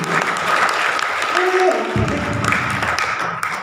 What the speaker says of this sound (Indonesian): Tepuk tangan dulu Tuhan Yesus.